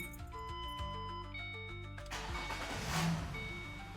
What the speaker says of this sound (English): So let's go ahead and go start the car